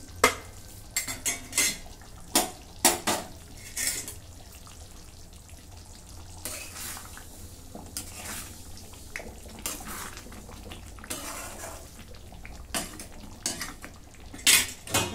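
Egg masala being mixed with salt and roasted kasuri methi in a pan, a spoon clanking and scraping against the metal in bursts of sharp knocks, close by, with quieter stirring between strikes and no voices.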